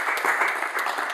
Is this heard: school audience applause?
yes